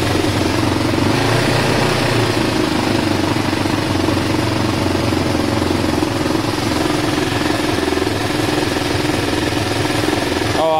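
A Kawasaki ER5 motorcycle engine idles slightly high after carburettor work, a steady, loud, continuous mechanical drone with an even throbbing pulse running unbroken throughout, no voices over it.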